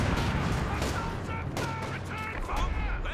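Rounds of gunfire crackle amid a thick battle din in a Company of Heroes 2 multiplayer match, loud and continuous, while a commentator talks over it.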